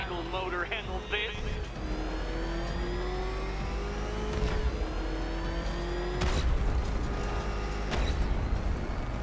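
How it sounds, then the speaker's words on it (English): A Batmobile engine in Batman: Arkham Knight revs and surges over a steady rising drone, with a louder burst near the end, under game music and effects. "Can that ramshackle motor handle this?"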